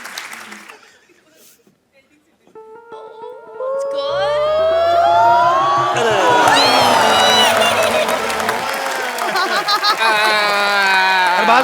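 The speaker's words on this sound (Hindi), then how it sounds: "जोरदार तालियां फॉर द नेक्स्ट प्लेयर" A studio audience on a Hindi comedy show bursts into loud applause and cheering with whoops and chuckles, rising after a quiet start and holding steady to the end.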